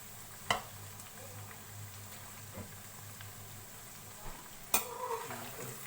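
Chicken pieces fry in a pan for quick crispy fried chicken, giving a faint, steady sizzle up close, broken by a few sharp clicks from a utensil.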